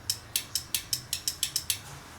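A rapid series of about ten sharp mechanical clicks from nitrous solenoids being grounded, evenly spaced and fairly close, with a low hum underneath.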